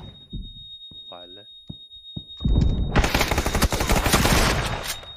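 Rapid automatic gunfire from a video game shooter erupts and continues densely after a few sparse sharp shots, loud and sustained, during a fight around a small inner room with a bathtub.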